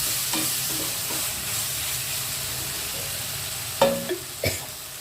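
Brinjal and potato fry with salt stirred in a pan: a faint sizzle with soft scraping, then a few sharper spoon knocks near the end, with no voices.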